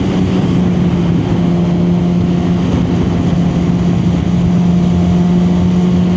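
A 1000cc liter-class motorcycle accelerates hard, its engine a loud, constant close-up drone with a steady tonal hum and wind roar, no voices.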